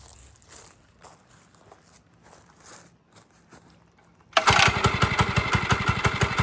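A small motorbike engine, a child's bike with the training wheels removed, starts for the first time after quiet footsteps and rustling, catching suddenly and settling into a loud, steady, rapid putter close by.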